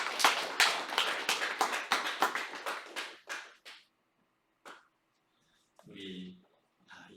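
Church congregation claps in a quick burst of sharp handclaps that taper off after a few seconds, followed by quiet and a brief voice.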